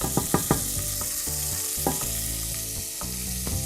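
Meat browning for chili in a pot sizzles steadily while a wooden spoon stirs it, with several sharp knocks and scrapes early on and a few more later, and a faint musical tone running underneath.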